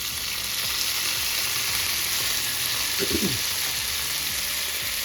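Lemon juice hits frying bitter gourd (karela) in a pan, giving a steady close sizzle throughout with a brief louder burst of crackle as the juice lands.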